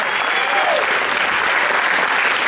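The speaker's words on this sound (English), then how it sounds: "How about another round of applause for Director Bong?" An audience gives Director Bong a round of applause at a film Q&A, steady, dense clapping throughout at close range.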